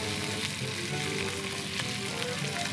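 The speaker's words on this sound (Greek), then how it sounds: "Το αφήνω τώρα να τσιγαριστεί μαζί" Grated tomato and onion frying together in a pan, a steady close sizzle and crackle that runs alone without pause.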